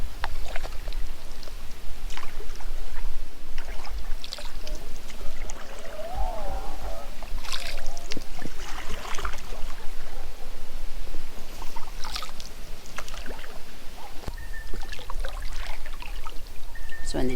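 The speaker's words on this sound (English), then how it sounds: "just listen to the water." Water laps and trickles steadily at a lake beach on a fall camping trip in Canada, a continuous close splashing wash with small gurgles and occasional brighter splashes throughout.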